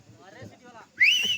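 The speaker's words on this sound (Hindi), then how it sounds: "सीटी बजाओ।" A crowd member at an outdoor church gathering near a bamboo link road construction site lets out a sharp, loud rising whistle after a stretch of murmuring voices.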